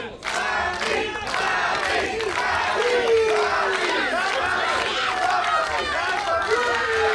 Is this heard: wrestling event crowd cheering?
yes